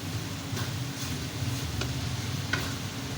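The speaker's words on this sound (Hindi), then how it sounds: "लेकिन अब हरी मिर्च का भी इसमें फ्लेवर आ जाए तो इसको अब थोड़ा सा फ्राई करती हूँ" Green chilies fry in ghee with beef keema in a karahi, giving a steady low sizzle with occasional stirring scrapes and clicks, close and continuous, with no voices.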